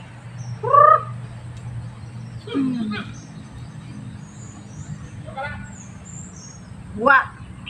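Backyard chickens clucking and squawking in a few short, scattered bursts, with a voice talking nearby and faint background hum between the calls.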